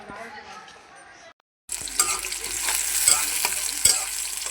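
Onion and green chili hit hot oil in a pan for spinach, a quiet stretch then a brief silence before a bright, loud crackling sizzle bursts in and keeps going, close up.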